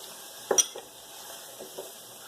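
Green chillies frying with turmeric in a pan for an aloo gobi, a faint soft sizzle with a sharp clink of a utensil against the pan and a few light stirring scrapes.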